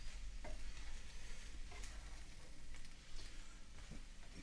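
Mushrooms for a Philly cheesesteak cook slowly in a pan, giving a steady low sizzle with occasional soft clicks and scrapes as they're stirred, close and fairly quiet, with no voices.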